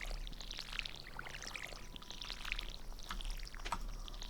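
Watering can pouring onto crops in Stardew Valley, a continuous soft splashing trickle of water that stays steady and moderately quiet throughout.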